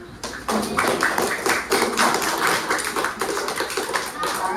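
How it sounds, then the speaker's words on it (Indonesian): A classroom of students claps together on a teacher's cue, a dense run of hand claps filling the room at steady loudness with voices mixed in. "Tepuk tangan dulu"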